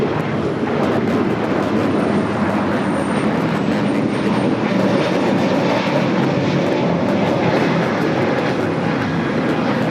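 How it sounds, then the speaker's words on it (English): A Spirit Airlines A321neo on its takeoff roll at Los Angeles International Airport, with a steady, loud, broadband jet engine roar that holds constant throughout. "This is Spirit Airlines 613 taking off to Columbus on the A321neo"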